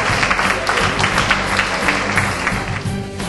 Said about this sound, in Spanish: El aplauso para nuestra amiga.